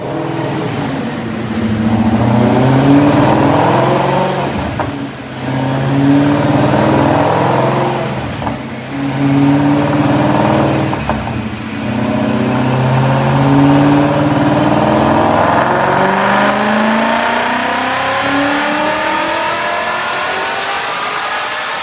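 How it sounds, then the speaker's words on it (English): A 2015 Mustang GT with a Procharger P1X supercharger, manual transmission, running on E85, revs loudly on a dyno. The engine climbs repeatedly in long sweeping pulls with brief dips between them, a sustained roar with a supercharger whine and no talk. "All right, we have this Procharger P1X cranked up really high."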